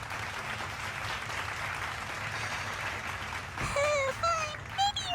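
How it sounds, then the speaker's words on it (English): A late-night talk show audience claps steadily and moderately loud throughout, and voices briefly call out over the applause near the end. "Give me a clap if you understand, please."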